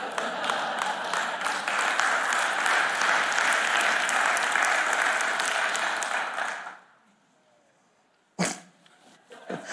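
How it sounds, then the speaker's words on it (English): An audience at a recovery testimony event claps loudly and steadily for several seconds, then the applause fades out, leaving a quiet pause before a short sharp burst of noise. "The loudest clap is when we're talking about drugs and treatment and relapsing."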